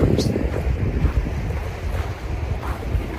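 River water flows through Yumthang Valley in Sikkim, India, a constant rushing wash buffeted by heavy wind noise against the microphone, fairly loud and close.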